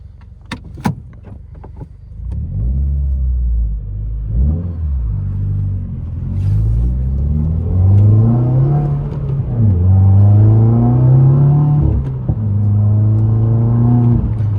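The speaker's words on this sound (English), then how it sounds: "it does have exhaust, which you guys are going to hear a little bit of" A 2020 Subaru WRX engine and exhaust rumble and rev repeatedly, pitch sweeping up and falling back with each push of the throttle, loud and close.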